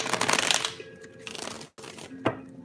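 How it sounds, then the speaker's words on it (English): A tarot card deck is shuffled close up, with quick riffling bursts of papery rustle separated by short pauses, soft and alone without talk. "I'm going to shuffle on camera."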